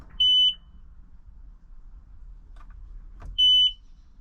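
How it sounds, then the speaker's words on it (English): A Seadoo GS jet ski gives two short, loud electronic beeps about three seconds apart while someone tries to start it, with quiet background between them. "Getting a lot of beeping, but nothing else."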